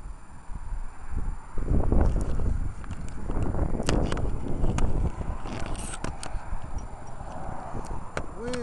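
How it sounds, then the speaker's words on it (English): Strong outdoor wind blowing hard, producing a continuous loud rumbling roar with gusty buffeting against the microphone throughout, with faint handling knocks. "Winds out here is blowing tremendously hard"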